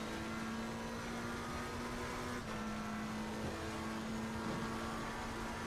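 McLaren 720S GT3 race car engine held at full throttle in Assetto Corsa at Zandvoort, a faint, steady sustained drone with little change in pitch throughout.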